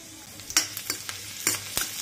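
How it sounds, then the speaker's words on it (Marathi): Garlic sizzles steadily in hot oil in a kadhai while a utensil scrapes and stirs in several quick strokes, close and moderately loud with no talking. "त्यासाठी थोडं तेल घालायचे कढईमध्ये। एक पळी तेल घातले मी। त्याच्यामध्ये लसण घालायचे,"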